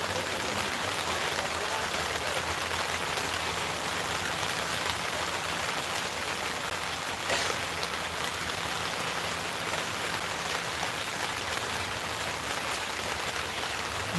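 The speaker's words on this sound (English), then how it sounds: "So tired of the rain." Steady rain falls without a break, a dense, even hiss of drops on surfaces that fills the whole stretch at a constant loudness, with no voices over it.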